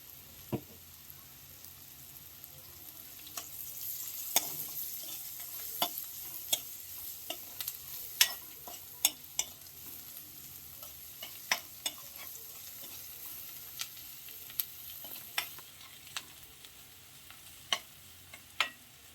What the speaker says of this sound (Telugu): ఇంతే చూడండి, తాలింపు గింజలు, ఉల్లిగడ్డ, కరివేపాకు వేసినాను